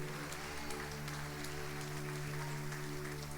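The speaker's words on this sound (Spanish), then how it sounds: "Denle un fuerte aplauso al Rey" A church congregation at a worship service applauds in praise of God, a continuous wash of clapping over a steady low hum of sustained instrumental tones.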